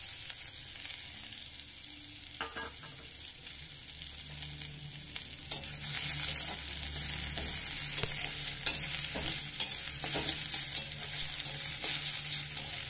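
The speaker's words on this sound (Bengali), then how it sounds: "পেঁয়াজটা হালকা ভালো ভাজা হবে।" Onions fry in a pan with a steady sizzle that grows louder partway through, broken by repeated scraping and knocking of a spoon as they are stirred.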